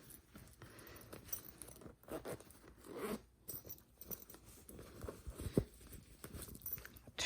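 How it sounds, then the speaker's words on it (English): A zipper on a sewn layflat shoe bag is pulled open by finger, giving quiet scratchy rasping bursts with soft handling rustle and crunchy fabric noises, close and faint, with no talk. "You're just going to put your finger in and open up your zipper."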